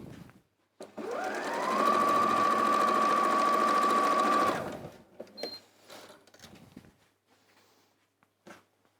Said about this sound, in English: I'm now going to sew these 3 pieces onto these sides over here.